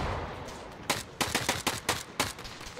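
Sniper gunfire in the Arma military video game: a quick run of about seven sharp shots cracks out over faint background ambience, then fades.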